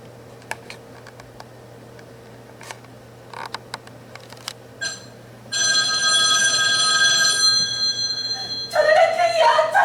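On stage during a student theatre workshop play, a telephone rings in a steady, loud, repeated tone after scattered light clicks and footsteps. A voice rises just as it continues.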